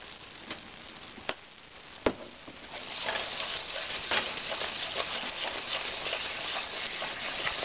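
Flour gravy made with standard all-purpose flour being stirred in a pan, a steady sizzle that thickens and grows louder partway through, with a few sharp utensil clicks against the pan early on.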